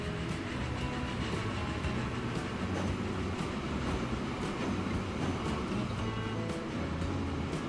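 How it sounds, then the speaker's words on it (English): A train in the Transport Fever 2 game rolls past as a steady, continuous rumble with faint rhythmic rail clatter, holding an even loudness for several seconds with no talk over it. "Let's get somewhere nice where we can watch it chug past."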